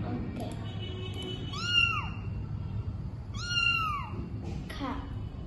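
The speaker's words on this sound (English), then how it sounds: "It's a cat." A cat meows twice, clear, drawn-out, rising-and-falling calls a couple of seconds apart, followed by a shorter third cry, heard over low background noise.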